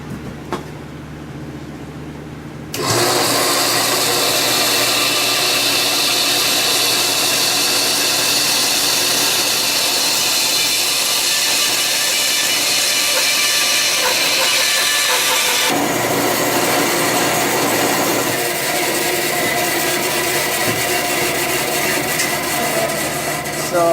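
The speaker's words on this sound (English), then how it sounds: "So basically I'm just going to follow this contour that's already established here and cut this plywood" A power saw cuts plywood edging along a curved contour, running loud and continuous for about thirteen seconds, then its pitch shifts as the cut continues.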